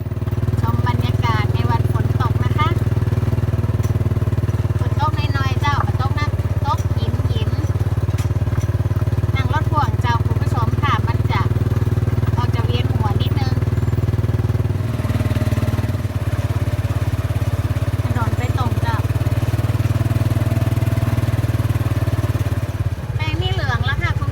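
A motorcycle-drawn trailer vehicle ridden along a road through open fields, its engine droning steadily and loud throughout, with speech running over it much of the time.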